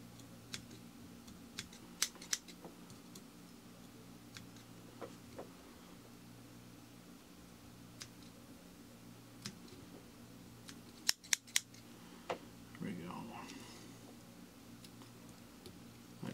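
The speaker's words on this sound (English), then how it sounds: "We're just going to come in and trim up all this stuff in the back." Small scissors snip hair while trimming a Moose Paddy fly, giving sparse, quiet crisp clicks with a tight cluster of quick cuts later on, near but faint against a low background hum.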